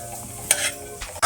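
A spoon stirs broken wheat and raisins roasting in oil for lapsi, giving a soft steady sizzle with a few brief scraping strokes, close and fairly quiet.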